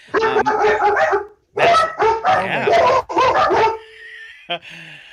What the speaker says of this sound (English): All those barks are for my daughter Lindsay